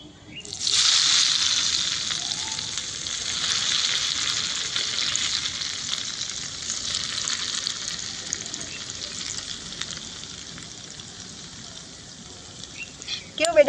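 Hot oil with crackling sesame seeds poured into chutney sizzles loudly, a bright steady fizz that slowly fades over several seconds, followed by a brief clatter at the end.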